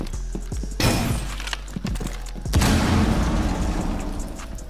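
Ash breaching charge blasting in Rainbow Six Siege, a sharp crack with shattering debris followed by a second louder burst and a long crumbling, rattling tail, with faint footsteps barely audible beneath.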